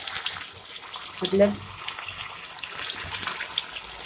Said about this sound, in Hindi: इसलिए एकदम थोड़ा सा इतना सा पानी डालेंगे